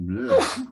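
A single short sneeze bursts out during a tabletop role-playing session, close and fairly loud, with a brief voiced lead-in before the sharp breathy release.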